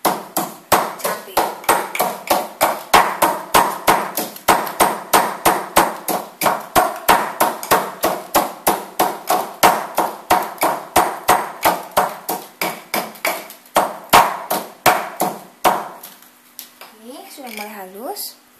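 Chilies and salt are pounded with a pestle in a mortar, a rapid run of sharp, evenly spaced thuds close by that slows and stops near the end.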